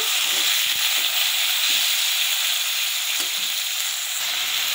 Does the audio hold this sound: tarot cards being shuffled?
no